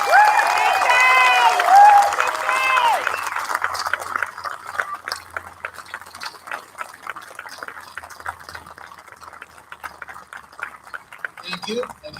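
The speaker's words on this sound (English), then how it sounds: "So let's stand up, let's applaud them" An audience applauds the graduating class of 2020 at a high school graduation ceremony: loud, dense clapping with voices rising over it at first, then thinning to scattered claps.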